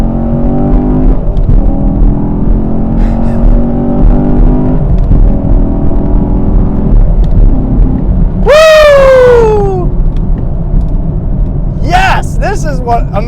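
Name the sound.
sports car engine and exhaust pops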